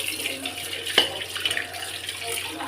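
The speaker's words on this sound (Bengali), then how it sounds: "চলো কুকারটা মাজা হয়ে গেছে, খালি ধুতে বাকি আছে।" A pressure cooker being rinsed under a running tap, with a steady close stream of water and a few clunks of metal against the sink.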